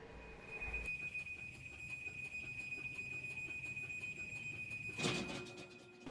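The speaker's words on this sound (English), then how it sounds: "There is a huge alarm that sounds when you go to close it." A Chamberlain smart garage door opener sounds a loud, steady high-pitched alarm tone continuously while closing, over a low mechanical hum, ending with a brief burst of noise.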